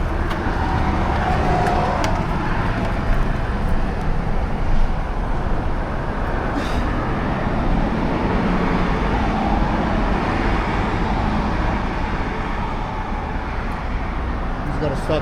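A 2018 Ford F-150 engine runs at idle with a steady low rumble throughout, while people talk over it nearby.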